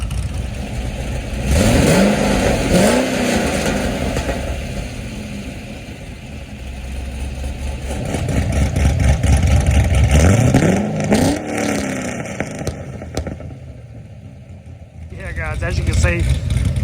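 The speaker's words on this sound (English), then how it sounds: "do a couple revs with it open and closed." A cammed LS2 V8 Corvette engine with a switchable exhaust idles and then revs hard several times, open and closed, loud and close, its tone rising and falling with each push, with some talking mixed in.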